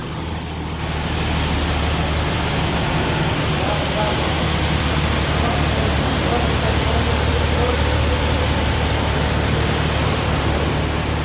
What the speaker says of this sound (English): Got a BF on the dyno with a built TBRE motor, built ZF.